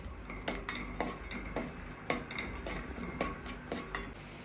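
Cashews and raisins frying in ghee for a Kerala avial payasam, stirred with a spoon that scrapes and clinks against the pan at irregular intervals over a steady, close sizzle.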